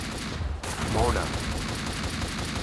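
Gunfire from the video game Max Payne 2 crackles in a dense, steady barrage, with a brief shouted voice breaking through partway.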